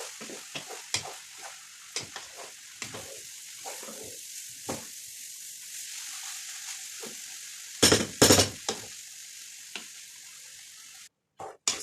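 Cabbage, carrots and parsnips stir-frying in a pan as filling for chicken spring rolls: a low sizzle under repeated scraping and tossing strokes, with a few louder clanks of the utensil near the end.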